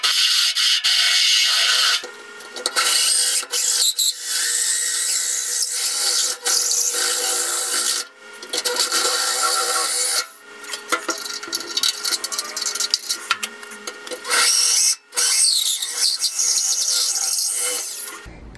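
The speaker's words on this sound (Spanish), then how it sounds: "voy a utilizar este más grande, que es un DeWalt, y lo voy a utilizar para hacer la perforación de 2 1/8." A large DeWalt drill drives a 2 1/8-inch hole saw through a metal door, making a harsh grinding rasp in repeated bursts separated by short pauses, loud and close.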